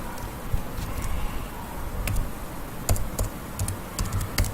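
Fingers typing on a computer keyboard, a quick irregular run of light clicks and taps, close and clear against a quiet room background, with no talking.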